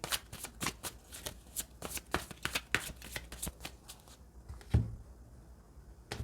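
Osho Zen tarot cards being shuffled by hand, a dense run of quick papery riffles and flicks that stops near the end, close and clear with no talking.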